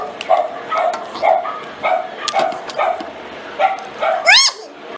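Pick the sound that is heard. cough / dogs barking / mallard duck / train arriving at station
dogs barking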